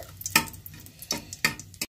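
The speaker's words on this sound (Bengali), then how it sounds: "এবারে আমি তেলের মধ্যে দিয়ে দেব শুকনো লঙ্কার কুচি। এগুলোকে আমি ভালো করে ভেজে নেব।" Chopped dried red chillies frying in oil, a soft low sizzle broken by three sharp spatula scrapes or taps against the pan, close and alone.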